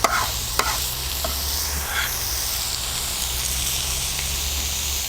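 Veal, mushrooms, onions and chili peppers sizzle loudly on a hot plancha, a continuous close hiss broken by a few sharp clicks and scrapes near the start.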